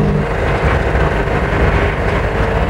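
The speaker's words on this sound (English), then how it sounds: "Listen to the distinct sound of this pollution solution." A steady, loud mechanical engine drone with a broad rumbling hum from a compressed-air-powered car, the AirPod 2.0, continuous and close, no voices.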